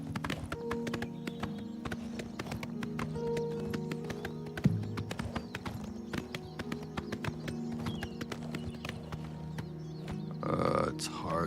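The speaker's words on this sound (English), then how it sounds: "It's hard to get uphill. Come on, horsey, you can do it, you old nag." Horse hooves clip-clop in steady, repeated steps as a mount climbs uphill in the video game Oblivion Remastered, with a brief snort or whinny near the end.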